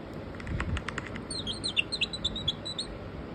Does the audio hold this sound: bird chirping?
yes